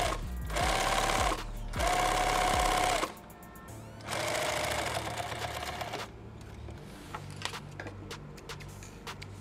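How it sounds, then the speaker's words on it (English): A sewing machine hems the edges of a small pouch in bursts of rapid, close stitching with short pauses between runs, followed by lighter clicks and handling noises. "Now I'm going to hem these edges in here."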